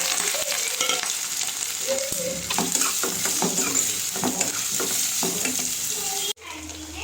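Chopped onions fry in hot oil on a stove, giving a steady close sizzle broken by scraping stirs and light clinks of a spoon on the pan, which cut off sharply near the end.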